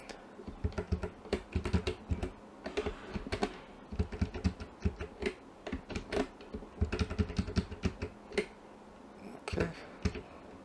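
Arrow keys on a computer keyboard are tapped repeatedly to nudge objects on screen, a brisk stream of close, crisp clicks in irregular bursts with no talking.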